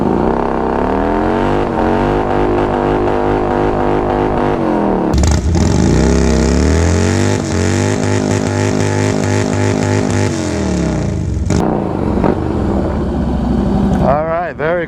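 A Harley-Davidson motorcycle doing a burnout, its engine loud and close, revving up and holding high with a surging roar, easing off and dropping away near the end.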